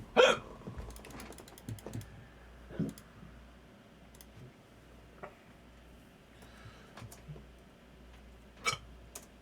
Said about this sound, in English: Hiccups are too strong.